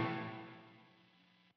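An electric guitar played through a Line 6 Helix strikes a single chord stab, then rings out into a smooth reverb tail that fades away over about a second and a half.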